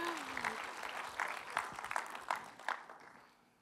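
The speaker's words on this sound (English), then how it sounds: "And applause." A church audience claps quietly and somewhat unevenly, a modest round of applause with distinct individual claps that tapers off toward the end; a voice is briefly heard at the start.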